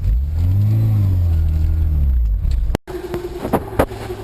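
A Honda car engine pulls away in gear, a loud close drone that rises and falls in pitch before cutting off abruptly, followed by quieter clicks and a faint hum.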